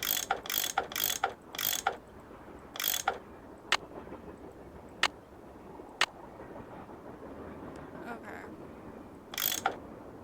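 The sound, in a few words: ratchet tool unscrewing bolts in Nancy Drew video game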